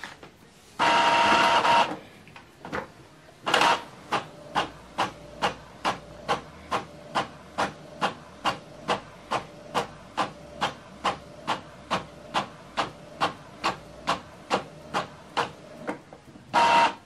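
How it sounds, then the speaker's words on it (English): Epson XP-5200 inkjet printer running a print job: a couple of longer whirring feed bursts, then a steady series of about twenty evenly spaced mechanical clacks from the print head, close and clear with no talking. "Printing complete."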